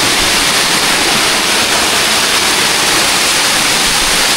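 A powerful mountain waterfall rushes without pause under high water pressure, a loud, dense, even roar of falling water filling the whole clip with no voices.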